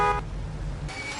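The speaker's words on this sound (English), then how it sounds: "Okay, now honk your horn." A car horn honks in the Mafia 2 video game, a short steady tonal blast at the start followed by a low engine rumble, with another horn tone returning near the end.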